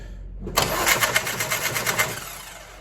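A VW/BMW hybrid motorcycle engine cranks and fires up after a near-silent pause, settling into a loud, close, rhythmic idle with pulsing exhaust beats.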